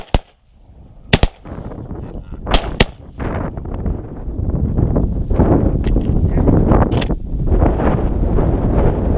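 Sharp, loud gunshots crack out during a waterfowl hunt in Kansas, several distinct reports spaced over the opening seconds against heavy outdoor wind rumble.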